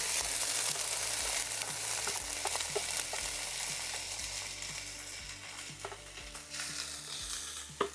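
Frozen peppers and onions frying in oil on an RV griddle, a loud continuous sizzle and crackle with light scraping, steady throughout and without speech.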